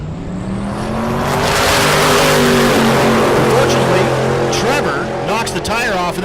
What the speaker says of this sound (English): the Nova does a burnout on the torque converter